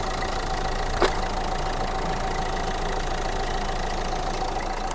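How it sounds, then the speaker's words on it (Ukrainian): A 2010 Renault Laguna diesel engine idles steadily close by, a low, even rumble with no revving, and one brief click near the start. "Кришечка, як для дизельного двигуна, гарно себе поводить, навіть не пригає."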